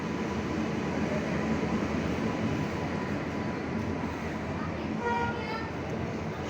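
Surendranagar–Bhavnagar passenger train arriving at a station platform, a steady loud rumble of railcars rolling in with a faint squeal or horn-like tone near the end, voices audible in the background.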